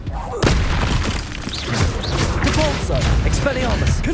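Confringo blasting-spell explosions in Hogwarts Legacy, a series of loud booming impacts and thuds following a sharp onset, mixed with spell effects and a voice calling out during combat.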